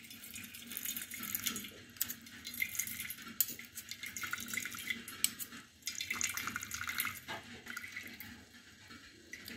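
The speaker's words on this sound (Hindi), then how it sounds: "अब जो हमारी लौकी उबल चुकी थी, इसको हम अच्छी तरह से छान लेंगे।" Water from boiled bottle gourd (lauki) draining through a tea strainer in a home kitchen, an uneven trickling and splashing stream with intermittent surges and drips, close and fairly loud, no speech.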